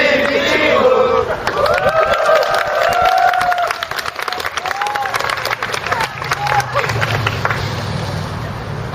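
Crowd at a union rally by SK Broadband and LG U+ unions in Jeonju applauds and cheers loudly, steady clapping mixed with shouts and voices close by for several seconds.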